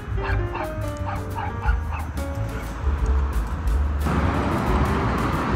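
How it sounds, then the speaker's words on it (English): A dog barks and yips in a rapid series of sharp, close barks, with faint background noise that grows into a broader rumble partway through. "Is it dog?"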